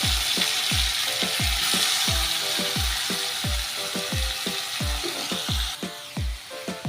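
Banana flower frying in hot oil with garam masala and bay leaves, a loud continuous sizzle with a regular rhythmic knock of a spoon stirring against the pan, close up.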